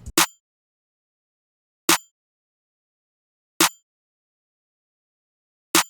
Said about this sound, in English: For my snare, I layer it with a triangle.